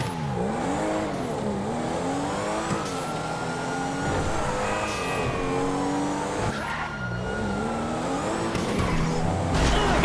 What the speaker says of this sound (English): The car slips from the speed, but I bring it back under control.